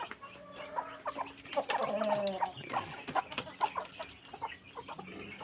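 Breeder chickens on a farm clucking and calling in irregular bursts, several birds close by with scattered rustling, a voice speaking faintly among them.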